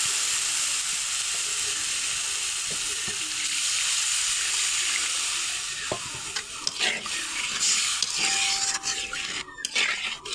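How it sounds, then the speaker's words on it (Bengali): Water goes into a tomato masala that has cooked until the oil separates, for a khesari dal fritter dish. It starts as a loud, even sizzle that breaks into splashes and clinks of stirring as the pan cools. "এখন আমরা সামান্য কিছু পানি দিই।"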